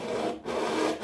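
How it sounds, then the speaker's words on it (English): A hacksaw cuts a piece of downspout to length, giving a steady rasping, sawing sound in repeated strokes. It is close and fairly loud, with a short dip partway through, and no one speaks. "And I'm going to use a hacksaw to do that."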